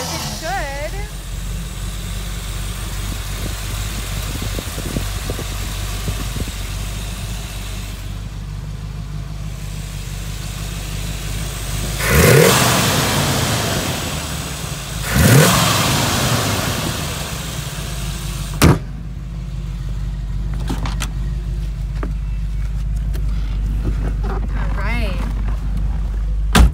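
A 1961 Chevrolet Corvette convertible with a 327 V8 and four-speed manual idles at a steady low drone, broken by two sharp revs around the middle and a short bark later, fairly close and loud.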